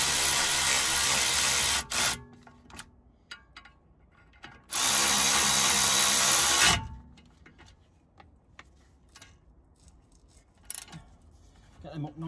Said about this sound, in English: The ratchet copes with them nicely, soon whizzes them in.